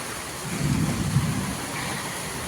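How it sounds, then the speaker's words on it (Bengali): Rain falls in a steady hiss, with a low rumble swelling briefly in the middle. "বৃষ্টি হইতেছে রহমতের বৃষ্টি"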